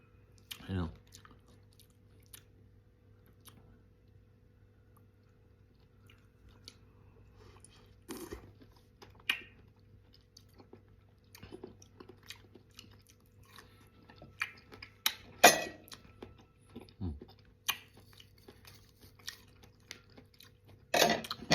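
Close, quiet chewing of gold kiwi fruit with scattered wet crunches and bites, spaced irregularly over a faint steady hum, with occasional soft mouth noises.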